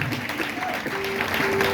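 A church congregation applauds, a dense wash of clapping that stays steady and fairly loud throughout, with faint tones and a voice underneath.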